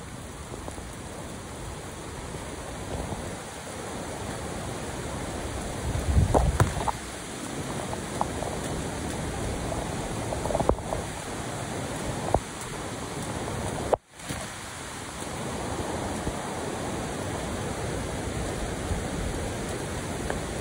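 Heavy rain pours down steadily at Kalu waterfall, a dense, loud, unbroken hiss that fills the whole stretch, with a few brief knocks and one sudden dropout partway through.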